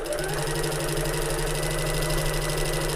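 A domestic sewing machine stitches steadily around the edges of fabric, a fast, even motor whir with rapid needle chatter, close and continuous for the whole stretch with no talking.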